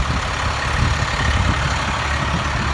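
A 2011 International Altec utility bucket truck idles steadily nearby, a loud, low diesel rumble with no break and no voices.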